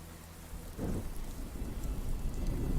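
Rain falling with low rumbling thunder in a video game, starting as a quieter patter and swelling after the first second into a dense, steady downpour that builds toward the end; no voices.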